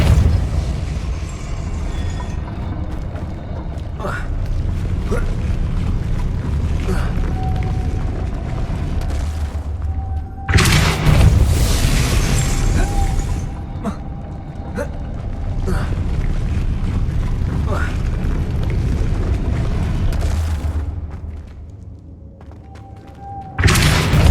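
A Depulso spell blast in the video game Hogwarts Legacy lands as loud booming thumps over a dense, continuous roar of game ambience, with one heavy burst standing out midway.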